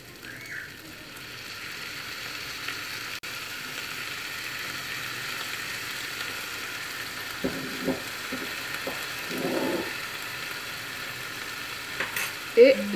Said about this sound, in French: je vais venir prendre la sauce soja et venir y mettre 3 cuillères à soupe